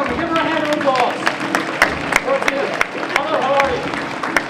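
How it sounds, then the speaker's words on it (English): An audience at a samurai show in Blackpool, England applauds a volunteer, steady clapping with scattered sharper claps and crowd noise, close and moderately loud. "give her a hand of applause"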